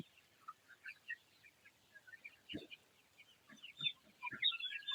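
Chickens in a poultry farm shed of about eight hundred birds, 47-day-old broilers, giving scattered soft clucks and calls that grow busier toward the end, with a few low knocks underneath.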